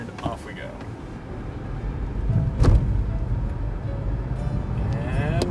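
A BMW i3 electric car pulls away from a stop and accelerates to about 40, a low rising road rumble and tire noise building steadily inside the cabin, with a brief thump midway and a faint motor whine.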